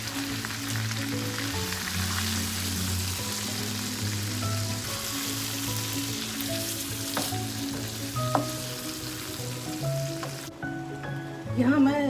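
Chicken frying with dry spices in a karahi over a lowered flame makes a steady, close sizzle that runs throughout, with occasional stirring scrapes and a faint underlying hum.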